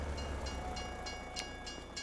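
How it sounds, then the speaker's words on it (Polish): A train in Farming Simulator 25 rolls past as a faint, steady rumble, with a rhythmic series of light clicks and a brief higher tone, no voices. "Pociąg jedzie."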